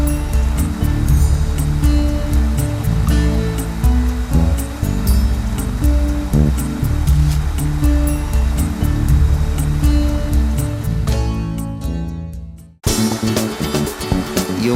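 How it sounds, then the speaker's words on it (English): Rushing water from a scenic waterfall, one of several popular with tourists at a nature spot: a loud, steady broadband roar runs almost continuously, then briefly drops out before resuming. "There are so many beautiful waterfalls here."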